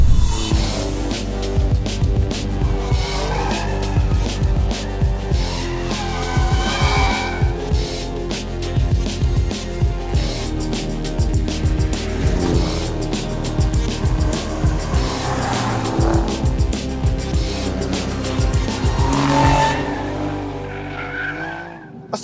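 A 2024 Alfa Romeo Giulia Quadrifoglio sports sedan, stability and traction control off, is driven hard on a track: a loud engine surges and revs repeatedly while the tires squeal and skid in long, wailing bursts, with no talk.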